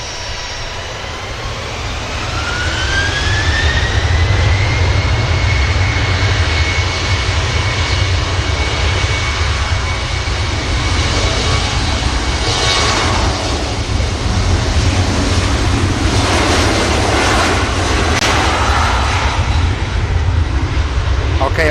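Finnair airliner at Manchester Airport spooling up its jet engines, a rising whine that climbs and then levels over a heavy, steady low roar, loud and close throughout.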